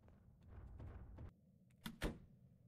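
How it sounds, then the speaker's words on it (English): Inside the Roblox game Nightlight, a low rumble and shuffle are followed by two sharp door thuds close together near the end, with no speech. "Oh, that was another door."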